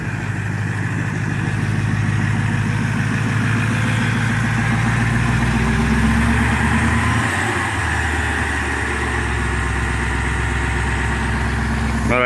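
A Cummins diesel in a Nissan Titan idles roughly just after a cold start, a steady low rumble with a loud, close engine drone that holds throughout and sputters briefly near the end.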